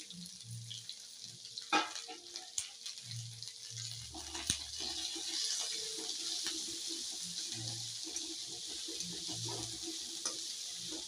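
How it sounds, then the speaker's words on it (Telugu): Onion pieces with ginger and garlic fry in hot oil with a soft, steady sizzle, joined by occasional stirring clinks and low knocks close by, with no talking. "ఇప్పుడు గోల్డ్ కలర్గా ఫ్రై చేయాలండి."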